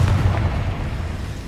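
In Hogwarts Legacy, a Confringo fire-blasting spell explodes as a loud, deep boom that decays into a sustained low rumble, heard alone without talk.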